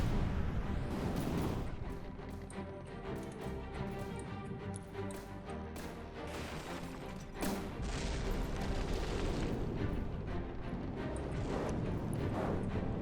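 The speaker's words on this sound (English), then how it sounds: "But let's begin the battle. Well, something exploded already." Explosions ringing out during a naval ship battle in the game From the Depths, heavy booms and crackling bursts repeating densely over a dull rumbling background from start to finish.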